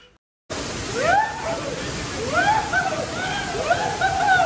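After a brief silent gap, the steady broadband rush of Ermai Falls rises and holds, with cold water splashing continuously and chirping sounds or voices faintly over the roar.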